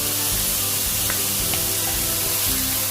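Garlic and ginger paste fries in a hot pan, giving a loud, continuous close-up sizzle with soft crackles and occasional stirring thumps.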